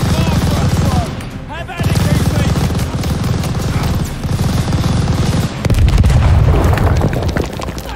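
Machine gun fire chatters through a wartime battle in Call of Duty: Vanguard, dense bursts mixed with explosions and booms, while soldiers shout over the din.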